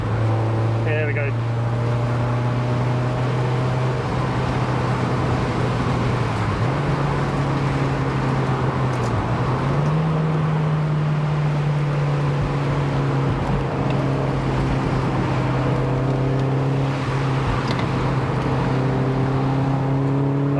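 Mazda MX5 BBR Super 200 with a GT back box exhaust and manifold, a steady in-cabin engine drone that rises and steps in pitch through gear changes while driving, continuous and fairly loud.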